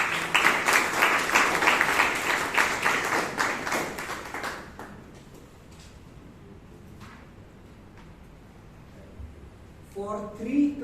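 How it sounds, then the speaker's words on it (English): Toastmasters meeting audience in Bangalore applauds a speaker and evaluator, a burst of close clapping for about five seconds that dies away into room quiet, with a voice starting to talk near the end. "a big round of applause to both the speaker as well as the evaluator"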